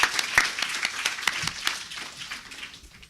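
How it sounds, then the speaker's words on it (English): Applause for a data journalism panel, a thinner patter of individual claps from a modest audience, strongest at first and tapering off. "Please give everyone a round of applause."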